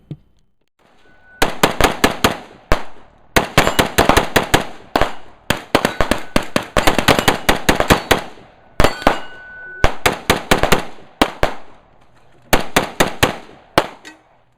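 An MSAR STG-556 rifle fires in loud, rapid strings of shots with brief pauses between bursts, each crack sharp and ringing, close to the listener with no talking.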